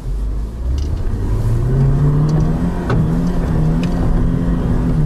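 Lada Niva crawling in first low-range gear with the differential locked on an off-road descent and climb, a steady, loud mid-pitched engine drone with slight pitch shifts, near and continuous, no talk.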